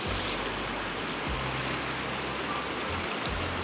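Floodwater of the Kosi river rushing in a steady, loud roar, a dense continuous wash of flowing water with no talk and a faint low rumble underneath.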